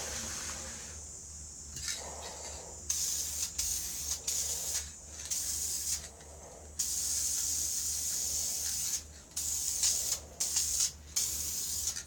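A spray gun sprays lacquer in a series of close hissing bursts of varying length, some short and some held for several seconds, separated by brief quiet gaps.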